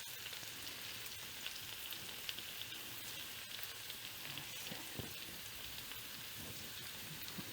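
Half a head of cabbage sizzles in melted butter in a pan, giving a faint, steady crackling hiss with no one speaking.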